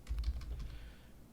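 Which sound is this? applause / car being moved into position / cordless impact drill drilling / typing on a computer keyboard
typing on a computer keyboard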